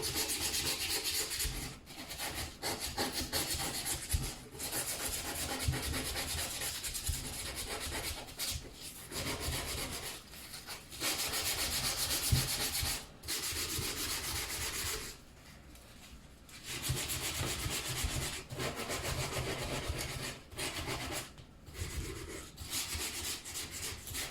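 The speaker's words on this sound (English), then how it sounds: "just scrub it on, but elbow grease is definitely needed" Surface being scrubbed by hand with pink cleaning paste, a close, steady rubbing and scouring in repeated bursts with short pauses between strokes.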